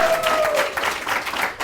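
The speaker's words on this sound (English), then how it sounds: "They deserve a clap for that." Audience at a marriage-themed event clapping for a couple married 25 years, a dense burst of applause with a brief whistle at the start, fairly loud and continuous.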